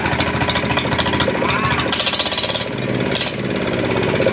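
Small gasoline engine driving a water pump, a loud steady rapid chugging rattle close by that runs continuously without pause.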